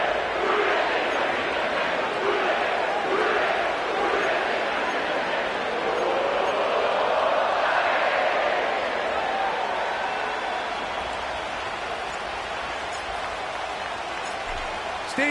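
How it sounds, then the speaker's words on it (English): A large sellout stadium crowd at Paycor Stadium in Cincinnati in an EA Sports football game, a steady roaring hubbub that swells slightly and then settles under continuous noise. "sellout crowd has arrived at Paycor Stadium in Cincinnati"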